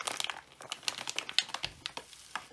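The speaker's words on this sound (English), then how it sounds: "I feel like you can't even see me trying to struggle and open this sugar right now." Plastic packaging on a bag of sugar crinkles and crackles in quick irregular bursts as someone struggles to open it, close-up and fairly quiet, with no voices.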